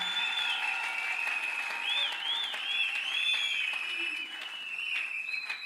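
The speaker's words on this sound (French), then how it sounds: "Est-ce qu'on peut acclamer le roi des rois?" Church congregation applauding and cheering to acclaim the king of kings, a steady wash of clapping with shrill ululating or whistling voices rising over it, loud and continuous.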